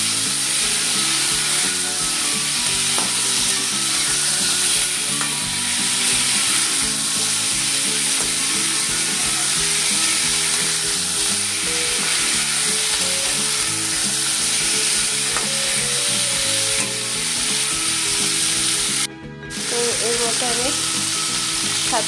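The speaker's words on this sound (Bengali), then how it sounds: "সেগুলোকে একসঙ্গে ভেজে নেব।" Potatoes and pointed gourd fry together in a pan with a loud, steady sizzle that runs unbroken throughout, ending with one sharp click near the close.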